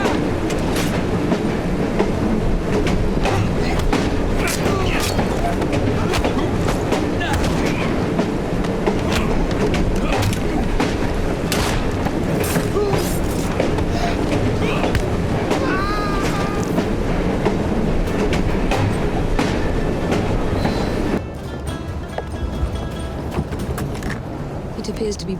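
A train running in the video game Assassin's Creed Syndicate, a loud continuous rumble with rhythmic clattering wheels and occasional squeals, under voices talking, easing slightly near the end.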